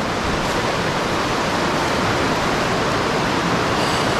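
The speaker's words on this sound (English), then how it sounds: "there's a giant cascading waterfall coming all the way from the top of the mountain, just dropping again and again down the rocks" A giant mountain waterfall cascades down rocks, a loud, steady broadband roar of falling water that fills the whole stretch without pause.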